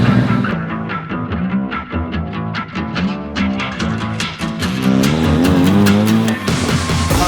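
Drift cars at a Drift Masters round in Riga accelerating through the gears, engines rising and dropping in rapid pitch sweeps with sharp shift breaks, loud and sustained.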